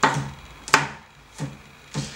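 Knife slicing garlic into small pieces on a cutting board: four distinct chopping taps spaced roughly half a second apart, close and fairly quiet, with no talking.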